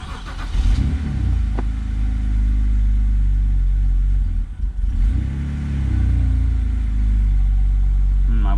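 A BMW car engine cranks and catches, then settles into a loud, steady idle that dips briefly partway through before recovering, with no voices over it.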